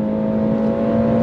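A Renault Clio RS200 engine is held high in the revs while the car is thrown through bends, giving a loud, steady, strained drone with a strong hum that barely wavers across the short stretch, with no voices.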